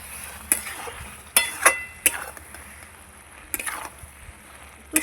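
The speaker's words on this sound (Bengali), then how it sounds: "একটু নাড়িয়ে দেবো।" A spoon stirs a dried fish (shutki) curry with potato and spring onions in a pan, giving a few sharp, irregular scraping clicks against a low simmering background with no talking.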